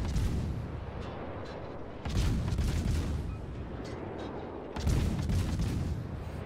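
Gearing destroyer guns firing in a naval battle video game, with heavy booming salvos in repeated bursts over a constant rumbling battle background.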